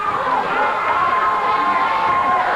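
Wrestling crowd at a 1989 Memphis CWA match cheering and shouting, a dense continuous roar of voices close and loud throughout, with an announcer talking over it.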